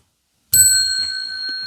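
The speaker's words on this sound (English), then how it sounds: "I'm going to ring the bell in 2 seconds" A bell-ring sound effect strikes once after a short silence, a bright clear ding with a sustained ringing tone that slowly fades, loud and alone.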